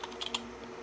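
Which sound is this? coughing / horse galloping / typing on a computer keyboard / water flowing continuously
typing on a computer keyboard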